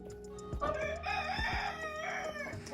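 A rooster on a country dacha farm with hens gives one clear, nearby cock-a-doodle-doo crow that rises and holds for a couple of seconds, over faint background clucking.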